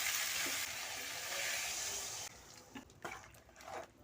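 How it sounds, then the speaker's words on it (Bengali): Loud, steady sizzle as water is poured into hot spice mix for a jackfruit curry in a pan, the hiss dropping suddenly partway through to a quieter bubbling with brief stirring clinks. "আমি জল দিয়ে দেবো"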